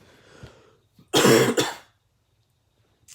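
Two sharp, loud coughs in quick succession, close by, after a moment of quiet with faint background noise.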